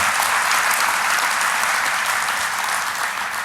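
Dense, steady applause fills a hall at the DEFCON 21 hacker convention, a loud crowd clapping evenly throughout with no gaps or voices on top.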